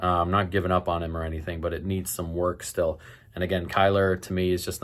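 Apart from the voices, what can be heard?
No everyday noises stand out.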